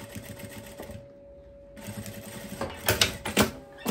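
A sewing machine stitching along a seam of tailored dress shorts, a close mechanical whirr that stops briefly and then resumes with louder rattling bursts.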